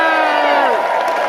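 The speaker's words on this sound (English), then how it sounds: "Give them a big round of applause." A rally crowd for a Gay Games DC community event cheers and whoops loudly in a brief burst, voices shouting over one another rather than clear clapping.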